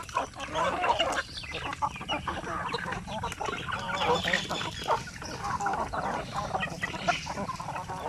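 Native chickens cluck and call on a farm, with overlapping clucks and a rooster among them, close and continuous, while a voice talks faintly in the background.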